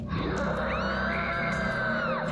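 Woman screaming as a horror sound effect in an aswang story, a single long, shrill, wavering shriek that rises and falls, loud and close over a low ambient bed.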